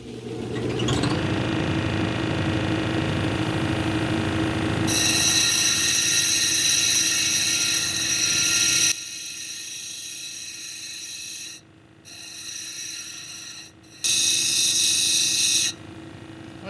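An 80 grit cabochon grinding wheel shapes a piece of amygdaloidal basalt, a steady motor hum joined by a harsh, high grinding whine that starts and stops in several long passes as the stone is pressed on and lifted off.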